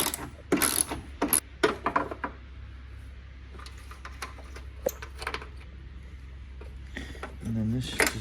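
A ratchet loosens a fastener on the bumper of a Ford XR6 Turbo. It gives several short bursts of clicking, with tool and metal clatter between them.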